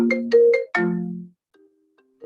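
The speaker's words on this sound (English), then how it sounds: "My sister's calling and I'm waiting for my phone to stop." A mobile phone ringtone from an incoming call sounds during a neighborhood council committee meeting: a short, loud electronic melody of rising tones, then a pause before it starts again faintly.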